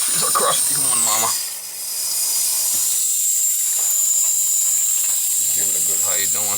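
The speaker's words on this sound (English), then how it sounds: "You can just hear all the air coming out." Steady high hiss of air escaping from a gas boiler hose during a boiler replacement in an old house, continuous throughout, with someone talking over it at the start and end.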